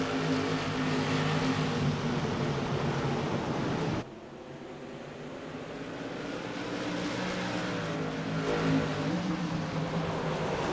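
Race cars pulling away at the green flag of the Shamrock 100 at the Bullring, a loud, steady wall of engine roar with a brief dip before building again.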